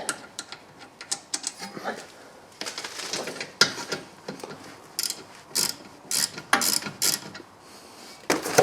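A hand ratchet loosens the 14 mm rear caliper slide bolts on a 2011 Toyota Sienna, making repeated bursts of rapid, close metallic clicking separated by short pauses.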